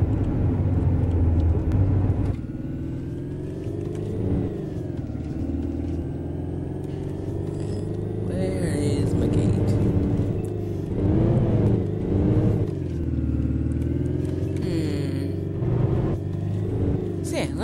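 Alfa Romeo Giulietta car engine in the Euro Truck Simulator 2 driving game, a loud, steady low rumble that rises and falls slightly with speed as the car cruises along a highway, continuous throughout.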